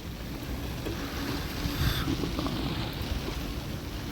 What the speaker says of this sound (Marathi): मोठ्या मोठ्या लाटा आणि वारा सुद्धा सुटलाय जोरदार एकदम